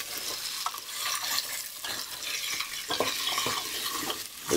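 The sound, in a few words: shallot, garlic and onion sautéing for sweet potato hash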